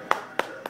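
Three sharp hand claps, evenly spaced and close by, each a crisp burst standing alone against a quiet background.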